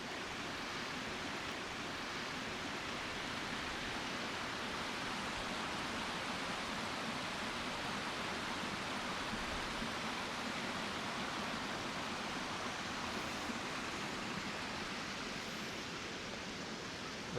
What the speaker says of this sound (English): I'm right here on the creek, which is just beautiful.